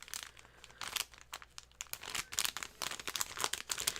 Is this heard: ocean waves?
no